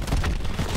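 A grenade goes off in Black Ops 4 multiplayer, a single close, heavy boom with a deep low-end rumble that fills the short moment.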